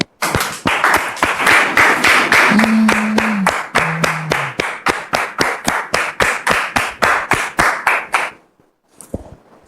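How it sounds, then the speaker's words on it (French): A crowd claps in a steady, rhythmic beat for several seconds, loud and close, then stops abruptly and a few scattered claps follow. "On le reçoit maintenant sous vos applaudissements."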